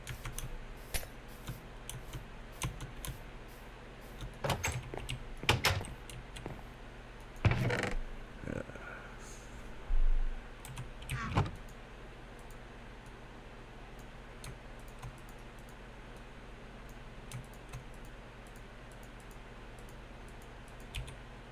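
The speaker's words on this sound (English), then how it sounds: "you can probably hear me clicking my mouse and the keys" Clicky computer keyboard keys and mouse buttons clicking during a Minecraft session, a steady patter of close, quiet taps with a few louder bursts of rapid typing, and no voices.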